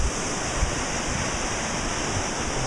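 Running water flows past the pump house station in the Grand Canyon, a steady, loud, broadband rush like a fast stream or small cascade heard up close, unbroken and alone with no voices.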